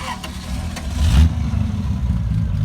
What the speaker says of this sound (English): Ooh, noises from the Jag.